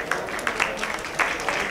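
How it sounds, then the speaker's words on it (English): Applause from the audience at a COP21 side event on sustainable public procurement, a short burst of many hands clapping at moderate loudness, fairly close, with no talk over it. "I think they deserve a very strong applause."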